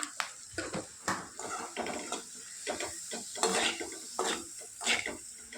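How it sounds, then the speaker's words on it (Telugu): Green chillies and salt are stirred in a pan, with a spatula scraping and rattling against the metal in short repeated strokes. The sound is close, fairly quiet and heard alone. "వీటన్నిటిని కూడా బాగా కలుపుకోవాలి"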